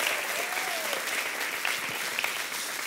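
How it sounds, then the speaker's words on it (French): A church audience in Paris applauds loudly and continuously, a dense crowd of claps with a faint voice or tone briefly rising above it. "Est-ce qu'on peut encore applaudir bien fort sa grâce?"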